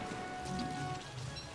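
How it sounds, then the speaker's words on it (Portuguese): Frogs rain down in the video game Don't Starve Together, a continuous patter of falling drops on surfaces with faint low rumbles underneath and no talk. "Chovendo sapo."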